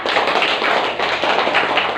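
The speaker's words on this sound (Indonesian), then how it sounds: "Tepuk tangan buat kelompok 2 ya" A classroom of schoolchildren claps for a student group at an Indonesian madrasah, a dense, steady patter of many small hands filling the room without a break.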